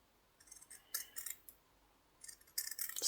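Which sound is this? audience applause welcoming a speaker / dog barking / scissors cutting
scissors cutting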